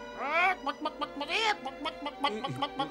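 Cartoon chicken clucking in a French-dubbed Smurfs episode, a run of loud, close, rising-and-falling squawks and clucks with rooster-like tone, repeated several times across a few seconds.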